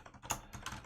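Quick bursts of keystrokes on a computer keyboard at a terminal, a few soft clicks in an irregular rhythm, quiet and close.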